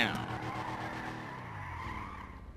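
Tires of a Rapid GT sports car screech in a long skid in the video game GTA Online, with the engine roaring underneath as the squeal slowly fades.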